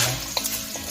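Vegetables for Ilocano pinakbet fry in canola oil with a steady close sizzle while a utensil stirs them, giving a brief scrape and clack partway through the short moment.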